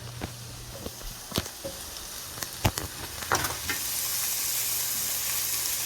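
Halved sweet cherry tomatoes and red bell pepper sizzle in a hot pan, a steady close hiss broken by a few sharp clicks and knocks from stirring, the frying growing louder and fuller toward the end.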